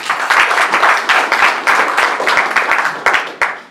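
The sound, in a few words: audience applause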